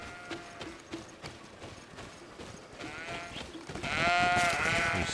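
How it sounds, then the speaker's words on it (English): Panicking goats in the game Greedfall bleat repeatedly, the wavering cries growing louder and more overlapping toward the end, over light clattering footsteps and ambient noise. "You silly goats. Stop panicking, will you?"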